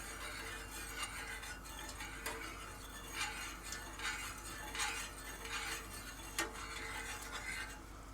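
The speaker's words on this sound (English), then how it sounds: "we'll stir that around a little bit and just get that nice and dissolved in there" A spoon stirs sugar into liquid, giving faint repeated clinks and scrapes against the container over a steady low background hum.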